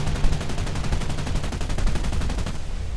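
Rapid autocannon fire from an aircraft in War Thunder, a dense unbroken stream of heavy, booming shots that stays loud and close for about three seconds before easing slightly at the end.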